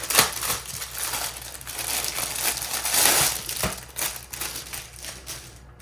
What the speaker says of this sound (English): Oh, and then I also picked up this